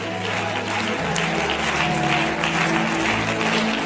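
A church congregation applauding at a French-language worship service, a steady wash of clapping from a large crowd that fills the room for the whole span, with faint voices mixed in.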